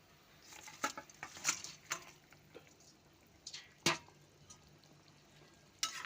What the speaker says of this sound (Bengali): মাছের জলটা ফুটে গেছে, আমি মাছ ভাজাগুলো দিয়ে দেবো।